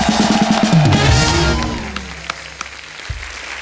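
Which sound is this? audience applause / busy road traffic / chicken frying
audience applause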